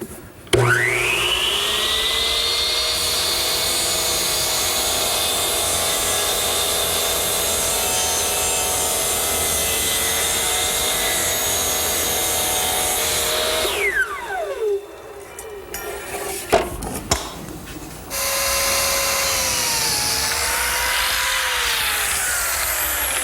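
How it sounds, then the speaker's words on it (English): A power saw cuts melamine pieces in a woodworking shop, mitering and trimming them to length: a long, loud, steady whine of the blade through the board, then the motor spinning down, brief handling noises and a second cut starting. "First I miter one end, then I slide the piece up against my stop and cut it to length."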